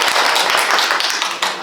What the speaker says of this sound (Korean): 박수 크게 치시는 걸로 하겠습니다